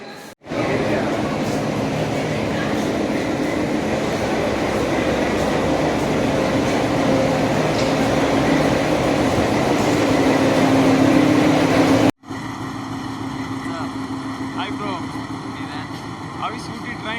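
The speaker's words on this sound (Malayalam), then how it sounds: "This is the train engine. Old type engine." An old-type train engine on the Nilgiri Mountain Railway rumbles loudly and continuously nearby, its broad, steady roar shifting abruptly in character near the end.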